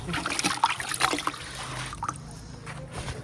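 Wet splashing and trickling up close, quick dabs of water slapped onto potatoes before they go into a tandoor, with a steady background hum underneath.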